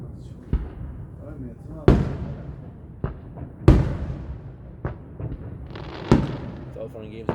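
Large fireworks launch and burst outdoors with a series of sharp, loud bangs spaced a second or two apart. Some reports are stronger than others, and people talk between them.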